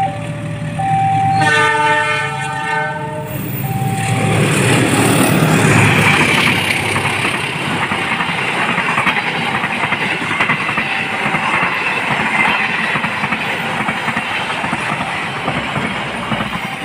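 A train horn blares near the start, then the loud Argo Semeru passenger train rushes past close by, wheels clattering steadily on the rails, in Indonesia.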